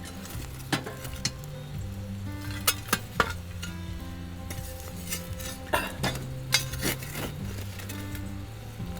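A metal shovel scrapes and clanks as hot coals are heaped onto a camp oven lid over a campfire in Howqua Valley. Sharp metallic knocks come in several irregular bursts over steady low crackle, close and fairly quiet.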